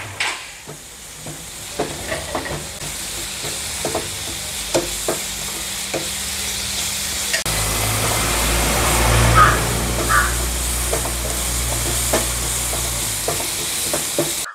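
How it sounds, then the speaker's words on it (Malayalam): Ground onion paste frying in a hot pan with curry leaves for a chicken fry, a steady loud sizzle with repeated scraping stir strokes that grows fuller midway through. "ഇനി മിക്സിയിലേക്ക് അരച്ച ഉള്ളി ഇട്ട് കൊടുക്കാം."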